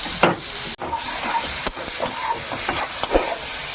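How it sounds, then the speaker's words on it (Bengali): Prawns seasoned with salt and turmeric fry in hot oil, a steady close hiss and sizzle with a few sharp clatters and brief bursts of spatter. "চিংড়ি মাছগুলো ভেজে নেব।"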